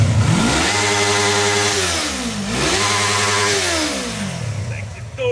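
A Yamaha MT-03 motorcycle engine revs hard and close, climbing in pitch, dipping briefly, then surging again before easing off, with the strong harmonic growl staying loud throughout.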